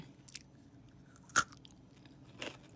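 A few quiet, crisp crunches from biting into a chocolate-covered pretzel, one sharper bite standing out, then a softer crunch.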